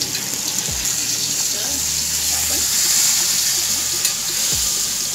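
A large pomfret fish frying in oil in a pan just after being flipped, a continuous hissing sizzle with faint clinks, steady and close, without any talk.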